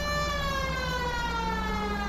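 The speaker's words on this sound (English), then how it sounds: "I'm gonna have the siren on." A police car siren wails in the 1940s Los Angeles crime game L.A. Noire, a loud continuous tone gliding slowly downward in pitch over a low engine hum, with no talking.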